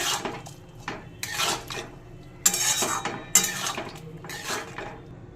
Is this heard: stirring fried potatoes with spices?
yes